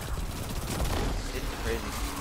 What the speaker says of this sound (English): Blew him up just with the SMG.